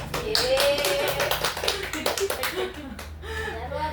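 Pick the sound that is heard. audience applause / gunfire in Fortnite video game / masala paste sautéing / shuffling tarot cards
audience applause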